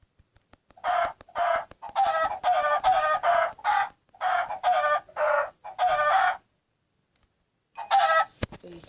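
A chicken in a Minecraft-style server game clucks and squawks in a rapid run of bursts, fairly loud and close, with a short pause near the end before a last call; no one talks over it.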